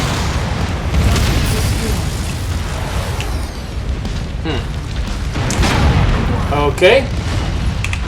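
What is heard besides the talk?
explosion of destroyed enemy mech in video game MechWarrior 5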